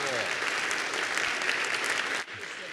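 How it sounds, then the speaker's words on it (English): A conference audience at a naval and maritime expo panel on wargaming breaks into sustained, dense applause that fills the room, then cuts off abruptly near the end. "So please join me in a round of applause for our panelists today."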